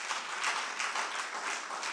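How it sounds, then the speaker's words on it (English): Soft, continuous applause from attendees of a hybrid annual general meeting, an even, fairly distant wash of many hands with slight swells and no talking. "I think we need a round of applause for that"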